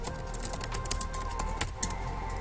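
Quick, light keystrokes tap out a short search on a computer keyboard, a close run of soft clicks with a few sharper key presses and a faint steady hum beneath.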